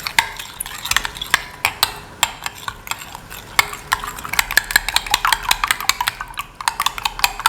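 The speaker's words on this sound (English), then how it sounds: "Mix the eggs thoroughly." Eggs and sugar are whisked briskly in a bowl, a fast run of close, bright clinks and scrapes of the whisk against the sides, steady throughout with no voices.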